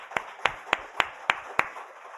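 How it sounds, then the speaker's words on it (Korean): A church congregation claps to welcome first-time visitors at a spring revival service: six crisp, evenly spaced claps in a steady rhythm over faint room ambience. "박수로 환영해 주시기 바랍니다"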